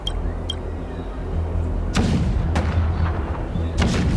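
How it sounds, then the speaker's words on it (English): Cannons in the Honkai: Star Rail video game boom and rumble out of a steady low drone, with a few sharp blasts spaced a second or so apart. "The rumble of the cannons."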